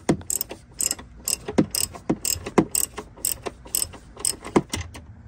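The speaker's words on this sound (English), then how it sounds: "and now we're gonna put on a ratchet" Ratchet clicking as it loosens a rear shock bolt on a 2011 Chrysler Town & Country in a driveway, a close, rapid series of sharp ratcheting clicks in uneven bursts, with no talk.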